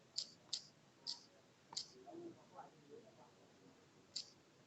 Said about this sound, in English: Nti yɛbɛuse mouse click sound